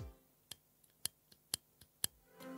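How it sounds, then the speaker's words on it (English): A cheap airbrush trigger is pushed down repeatedly, giving several sharp, quiet clicks about every half second, heard close up over a faint background hum. "That's the clicking when I'm pushing it down."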